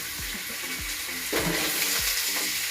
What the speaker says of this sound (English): first we need to put our meat for it to render